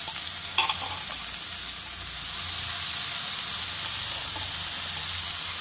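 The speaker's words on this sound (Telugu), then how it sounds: "సో ఇప్పుడు ఇందులో ఉల్లిపాయ అయితే వేసుకుందామండి" Onion hits hot oil in a pan for a spring onion and tomato curry, and a loud, steady sizzle and hiss fills the whole stretch, with a brief clatter of stirring near the start.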